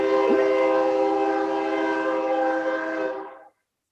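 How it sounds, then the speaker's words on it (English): A train passing near a residence sounds a long, steady horn blast that holds loud and unbroken for about three and a half seconds before cutting off into silence. "So apparently I live near a train."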